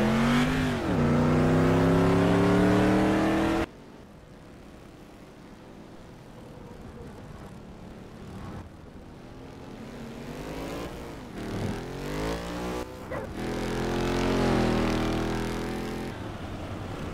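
A race car in the Automobilista racing simulator screams at high revs, then cuts abruptly as it brakes hard, with quieter engine burble and downshifts before it climbs through the gears again to a loud, sustained roar.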